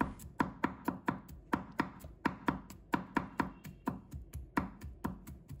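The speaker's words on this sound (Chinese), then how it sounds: "再准备1把大蒜，把它切成片， 再切成末" A knife chops garlic into slices and then minces it on a cutting board: a quick, regular run of sharp, close knocks, about three or four per second, with no talking.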